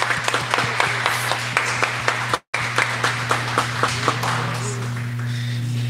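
Applause from a church congregation at an evening home worship service: scattered hand claps run steadily over a constant low hum, broken by a brief dropout partway through, then the clapping continues more sparsely.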